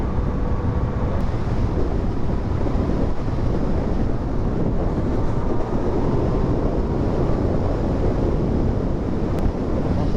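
Loud, continuous wind roars and buffets against the microphone while riding a Yamaha MT-09 motorcycle without wind protection, with a faint engine hum underneath and no talking.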